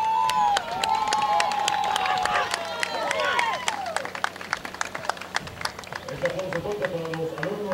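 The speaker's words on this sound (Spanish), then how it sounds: "Un aplauso para ellos" A sports-event crowd applauds and cheers for young runners before an athletic race, with dense clapping and shouts under a busy, loud mix that thins toward the end.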